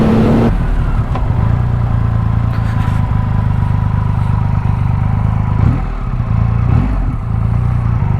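A 2022 Triumph Rocket 3 R motorcycle accelerating hard with traction control engaging: a loud, steady, close engine drone with rumbling low tones and wind noise throughout.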